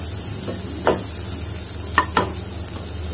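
Chopped capsicum stir-fried with vegetables for a veg momo filling, giving a steady sizzle in the pan with a few sharp scrapes and tosses of the spatula, close up and with no talking.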